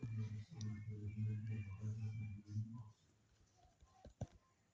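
Computer keyboard keys tapped in quick bursts, close and fairly quiet, with a voice talking over the first few seconds and a couple of sharper clicks near the end.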